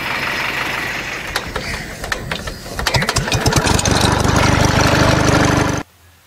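A car engine with a fault that blows oil out through its crankcase breather, running steadily with a rough mechanical rattle that grows louder partway through, then cuts off abruptly near the end.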